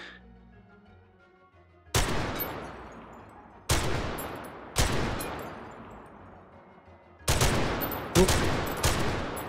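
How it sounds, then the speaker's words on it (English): Five sharp, loud gunshots ring out from a magazine being emptied in the VR shooter Hot Dogs, Horseshoes & Hand Grenades, spaced unevenly with long decaying echoes, the last three coming in quicker succession. "shoot off this last magazine"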